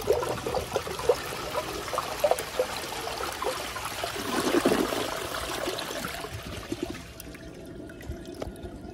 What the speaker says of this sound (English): So here's a flush.